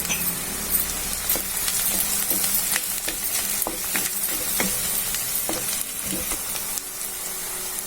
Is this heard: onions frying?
yes